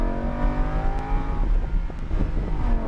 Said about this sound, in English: let's get acquainted with that throttle. Big power all the way down.